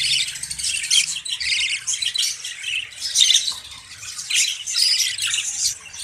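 Budgie parrots squawk and chirp continuously in a breeding cage, a busy, close chatter of overlapping bird calls at moderate loudness with no talk.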